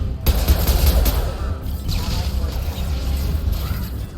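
Sustained gunfire from the Mass Effect 2 video game during a cover firefight, dense bursts and impacts running continuously and loudly throughout, with brief combat voices mixed in.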